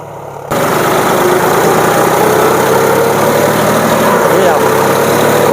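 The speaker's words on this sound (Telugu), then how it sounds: "ఇక ఇది మన కొత్త ట్రాక్టర్ పనితీరు ఘోరాన్ని ఇస్తాంది" A new John Deere 5050 D 4WD tractor's diesel engine kicks in abruptly and runs at a loud, steady drone with a low rumble, close by and continuous to the end.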